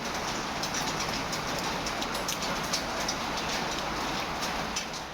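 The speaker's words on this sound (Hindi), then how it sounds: "अभी भी बहुत तेज़ बारिश हो रही है" Heavy rain pours steadily on a rainy summer day in India, a dense, even hiss with faint patters, continuous and fairly close, with no voices.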